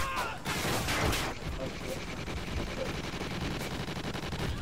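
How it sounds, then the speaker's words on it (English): A minigun fires in the video game Call of Duty: Ghosts during a Gun Game match, a dense, continuous roar of rapid gunfire that is loud and unbroken throughout. "Oh, minigun."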